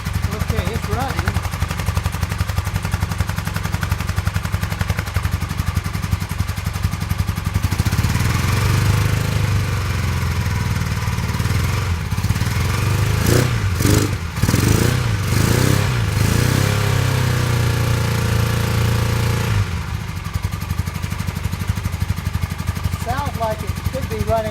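A 1982 Honda CB 450 motorcycle engine runs steadily and loudly close by, with a rough, uneven firing beat that suggests only one cylinder is working; several sharp revs or pops burst out partway through.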